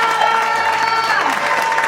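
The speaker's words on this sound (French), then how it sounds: "Clap for God. Clap for God." A church congregation clapping and cheering during a bilingual French-English service: a loud, dense wash of claps mixed with crowd voices and sustained tones.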